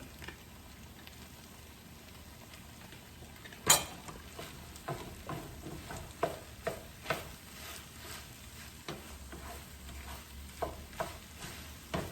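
Green peas tumble into sizzling shrimp fried rice in a home kitchen, a steady close frying hiss broken by scattered scrapes and taps of stirring, with one sharp knock early on.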